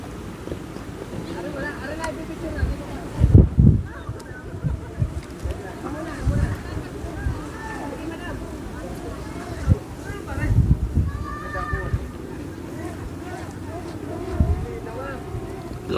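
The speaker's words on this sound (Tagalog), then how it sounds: "Lakas ng hangin guys." Strong wind roars steadily outdoors against the microphone in Batangas City, with gusty buffeting throughout while people talk over it.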